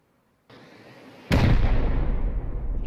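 In the survival game Rust, a rocket strikes with a sudden loud explosive blast after a quieter lead-in, the boom then rumbling and decaying over the next seconds.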